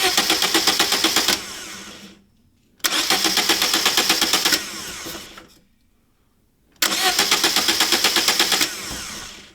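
Fiat Panda 1000 engine on full choke being cranked by its starter in three separate bursts of about a second and a half each, rapid and rhythmic, close and loud, with short silent gaps between.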